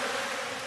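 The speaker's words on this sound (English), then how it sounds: "bees seem upset, don't they?" Bees buzz in a steady, dense drone that fills the brief moment at a constant level, close and continuous with no voices.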